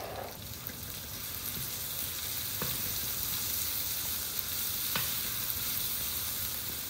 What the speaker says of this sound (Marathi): आता हा कांदा जवळपास भाजला गेला